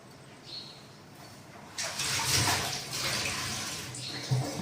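Water poured from a tumbler onto rice, a brief rush of splashing that rises sharply partway through and carries on steadily, close and fairly quiet.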